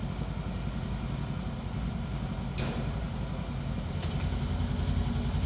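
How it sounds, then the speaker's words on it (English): A Polaris RZR off-road vehicle engine idles while warming up, a steady low rumble throughout, with two brief sharp clicks partway through. "start the engine, and allow it to warm up at idle for 2 to 3 minutes."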